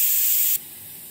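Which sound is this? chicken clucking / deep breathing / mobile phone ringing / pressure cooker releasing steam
pressure cooker releasing steam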